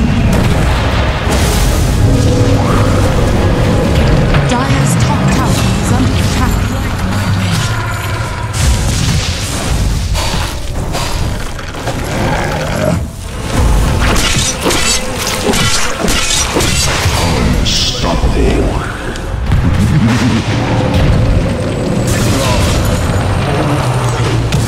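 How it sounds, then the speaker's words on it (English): Dense Dota 2 battle audio as Radiant's bottom tower takes an attack, with loud, continuous booms, crashes and impact hits layered over one another for the whole stretch, and little letup in between. "Radiant's bottom tower is under attack."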